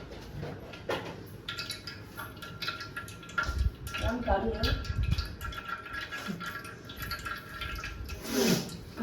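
Water is poured for washing in an outdoor village kitchen during cooking of country chicken curry, a splashing, trickling pour with clinks of vessels under people talking.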